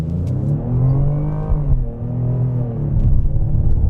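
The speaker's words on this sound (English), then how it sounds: "I don't know if they're piping sound into the interior, but this thing sounds great. It's like you hear a lot of intake noise." A 2025 Ford Explorer ST in normal mode accelerating hard, heard from the cabin, with a steady rising engine drone and prominent intake noise that climbs in pitch, dips briefly as it shifts, then keeps pulling, loud and alone.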